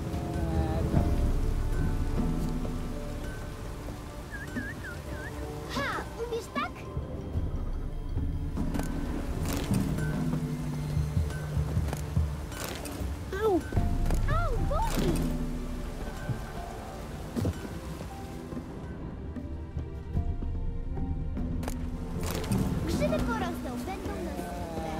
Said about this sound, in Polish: No to rozpadało się niedobrze.